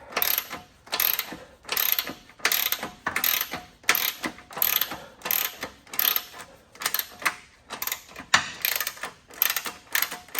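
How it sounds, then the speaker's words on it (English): A ratchet wrench clicks in quick, regular bursts while bolts are loosened on a Pontiac Firebird's lower control arm. The strokes repeat about twice a second, close and crisp, with no talking. "if I unbolt the lower control arm, it should just pop right out of there"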